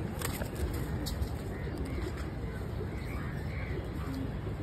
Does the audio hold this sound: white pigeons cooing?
yes